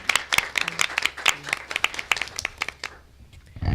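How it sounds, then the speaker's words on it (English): At a school board meeting, a smaller group gives a round of applause for board members. The claps are individual and fairly close, with uneven rhythm, thinning toward the end before a final burst. "Can we give them another round of applause?"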